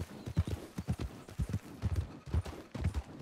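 Close, rhythmic hoofbeats from a horse walking through a town in Red Dead Redemption II, an even clip-clop pattern with no other sounds standing out.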